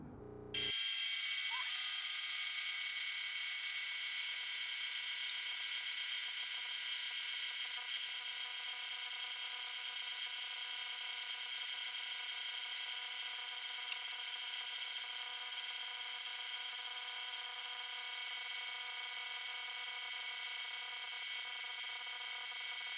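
A machine tool takes a deep cut of about 4 to 5 mm to clean up a corner of a cast metal raised V-block, giving a steady, continuous whine with a constant tone for the whole stretch and no talk.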